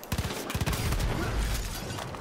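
Light machine gun in Far Cry 5 on a World War II custom map, rapid bursts of close gunfire in quick succession at the start, then a sustained low rumble of continued fire and explosions.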